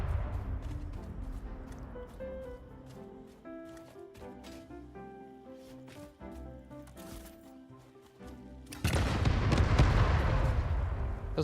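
Cluster bomb explosions in the video game Satisfactory: a string of sharp blasts and crackles, then a loud, dense burst of roaring explosions near the end, with no talk over them.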